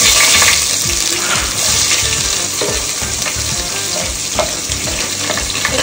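Onions and spices sizzling in hot oil in a home kitchen, a loud, dense, steady frying hiss with occasional stirring clatter throughout.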